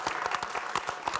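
Studio audience applause for a family on a game show, a short, moderately faint burst of scattered clapping with distinct individual claps.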